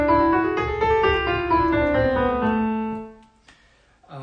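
A melodic minor scale rises and falls as a smooth run of sustained notes on one instrument, close and clear, fading out near the end before a faint brief noise.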